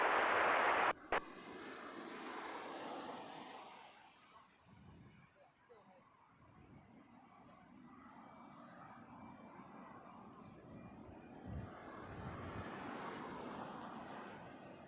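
A British Airways Boeing 787 Dreamliner arriving at Heathrow makes a steady, distant engine roar that swells, eases and builds again, while a commentator talks over it.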